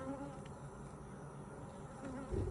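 Honeybees drawing comb produce a steady, close, dense buzz that fills the whole moment without pause.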